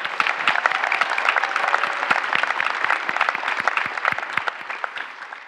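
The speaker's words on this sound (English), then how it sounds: "can we get another applause for these two gentlemen?" Conference audience applauding a pair of presenters at the Samsung Developer Conference 2018, a dense, steady roar of many clapping hands that carries on without a break for several seconds.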